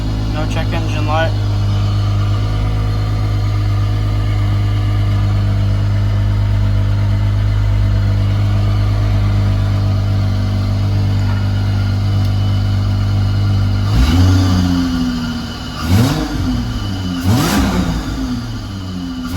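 A supercharged 3800 V6 in a Pontiac Fiero starts up and settles into a steady, loud idle, then gets a few sharp throttle blips near the end, with voices occasionally over it.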